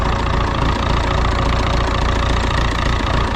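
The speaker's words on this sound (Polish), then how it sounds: "Normalnie to się nazywa zdrowy silnik." A car engine idles steadily up close, a continuous low rumble with a faint ticking knock, no voices.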